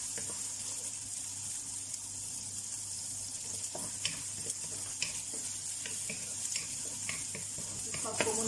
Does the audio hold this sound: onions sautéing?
yes